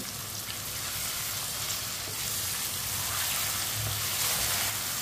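Chicken frying in a pan while being stirred with a spoon, a steady close sizzle and crackle with faint scraping, continuous throughout and no talking.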